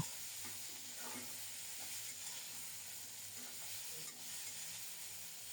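Cabbage tempered with black cumin fries gently in oil in a covered pan over low heat, giving a steady soft sizzle with occasional stirring scrapes, no voices.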